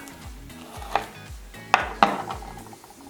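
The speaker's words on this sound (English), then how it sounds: "I'm going to cut it open and see what we have on the inside." A knife cuts open a Dragon's Breath pepper on a board, giving a few sharp clicks and taps against soft low background noise, close and fairly quiet.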